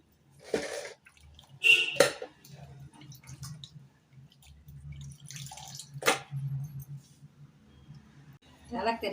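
Water sloshes and drips in short, separate bursts as meat is rinsed by hand in two or three changes of water, while a voice talks quietly between the splashes.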